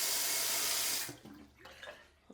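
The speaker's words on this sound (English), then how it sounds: "And then when I turned the water on" A sink tap beside a drain pipe fitting runs steadily as a loud, even hiss for about a second, then cuts off, leaving faint knocks and trickles.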